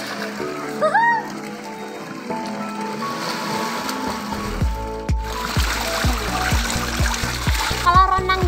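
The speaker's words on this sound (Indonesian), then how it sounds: "saya renang dulu ya" Swimmer splashing into and moving through a resort villa pool in Ubud, Bali, loud close splashes and churning water after a cheer, with voices calling out over it.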